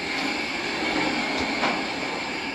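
Steel carriage of a Woodland HM122 bandsaw mill rolling along its rails, small stainless steel wires scraping sawdust from the grooves, giving a steady, even hiss-like scrape close by with no talking.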